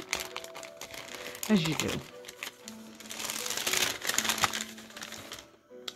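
A small paper advent calendar bag is carefully opened, giving short bursts of crinkly paper rustling and tearing, with a person speaking softly nearby.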